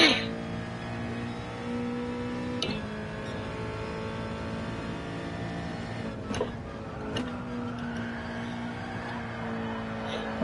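Race car engine in a sim racing video game during practice, a steady droning tone with a few sharp clicks and shifts as the driver brakes lightly, no talking.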